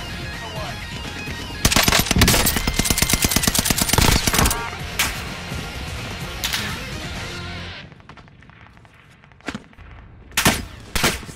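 Video game gunfire erupts in loud, dense automatic bursts, followed by quieter scattered single shots as the firing tapers off.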